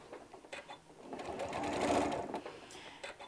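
A sewing machine runs steadily, swelling and easing as it stitches a curved seam along a fabric edge, a continuous close whir with faint clicks.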